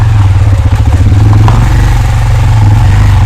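A motorcycle engine runs loud and close, a rough throbbing idle-to-low-rev pulse with rattling clatter as it is ridden and shifted through gears.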